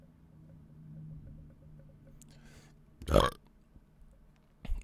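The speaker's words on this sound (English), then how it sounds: "It's the sound of 28-year-old burping." Burping sound effect that plays at a video game's startup, a single loud, deep belch bursting out after a quieter stretch of low background noise, followed by a brief second thump near the end.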